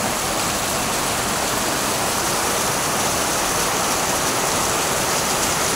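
Overflowing floodwater rushes past near a house in a steady, loud, unbroken roar, close by, with no voices.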